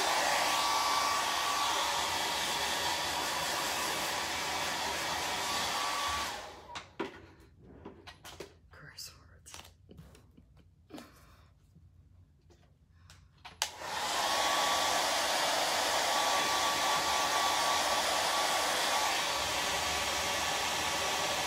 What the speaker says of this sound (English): I just washed this and it's still not fully dry and I wanna use it again, with cold air, I'm just gonna dry it.